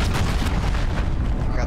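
A busy firefight in a Modern Warfare multiplayer match rolls on as a continuous, dense wash of gunfire and low booms, with snipers among the shooters and no single shot standing apart.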